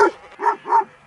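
A sheepdog in a flock of sheep on a Colorado mountain trail gives about three short, close barks spaced evenly, with a whimpering, yelping edge.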